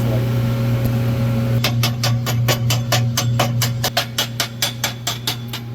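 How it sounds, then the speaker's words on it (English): A slag hammer chips slag off a fresh stick weld at a welding shop, striking about twenty sharp, evenly spaced metallic taps over a steady mechanical hum. "Let's hit it with the slag hammer"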